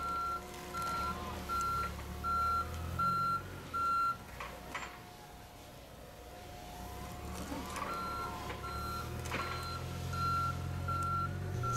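A semi-truck reverses through a recycling plant's bale yard, its backup alarm beeping in a steady repeating pattern while the diesel engine rumbles and swells underneath, with faint industrial noise around and no talking.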